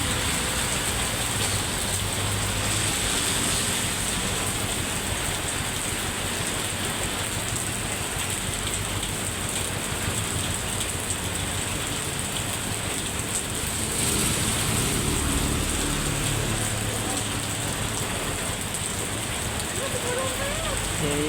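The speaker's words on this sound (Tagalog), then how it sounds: "Lakas ng ulan." Heavy rain pours steadily with a dense, hissing roar that barely changes throughout, loud and close.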